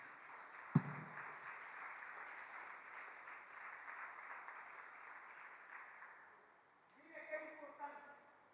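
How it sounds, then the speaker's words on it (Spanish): Faint, distant congregation applause during a church meeting, a soft continuous patter after a sharp knock, with speech and a brief voice near the end. "¿Cuánto le dan un aplauso al Señor Jesús?"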